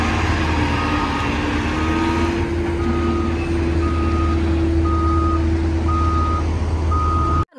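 Toy sand truck plays a reversing beep, evenly spaced electronic tones repeating about once a second over a steady engine-like hum, loud and close with no talking.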